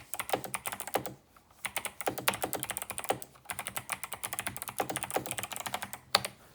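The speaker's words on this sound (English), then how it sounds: "the clicky tactile switch sits somewhere in between the browns and blues in feel. Lighter, but definitely clicky" Typing on an 8BitDo retro keyboard fitted with light clicky tactile switches, producing rapid crisp clacks in bursts separated by short pauses, close and clear.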